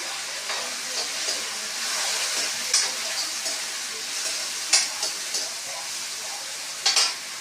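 Onions frying in a pan with garlic already browned, giving a steady broadband sizzle with several brief louder crackles and scrapes of stirring, close and without talk.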